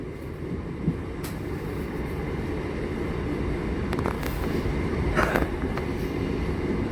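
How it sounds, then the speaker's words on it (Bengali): Katwa–Ahmedpur MEMU electric train pulling out of a station, a steady low rumble and rolling wheel noise with a few brief higher squeals and clatters on top, continuous and fairly close. "কাটোয়া আহমেদপুর মেমু নিরল রেল স্টেশন ছেড়ে যাচ্ছে"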